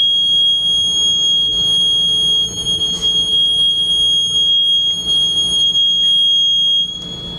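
A steady, piercing high-pitched Miura boiler safety alarm sounds continuously and loudly, with faint mechanical background noise and occasional small clicks beneath it.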